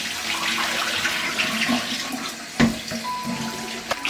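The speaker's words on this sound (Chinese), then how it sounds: "抓捏之后再用清水多冲洗2遍，这样就可以洗得很干净了。" Water from a kitchen tap pours continuously over pork ribs being rinsed in a bowl, with a soft rushing flow and a sharper splash partway through.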